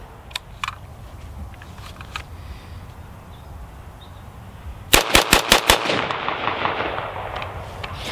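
An empty HexMag polymer magazine drops free from a standard AR-15, making a quick burst of about five sharp clattering knocks midway through, with light handling clicks before it in a quiet room.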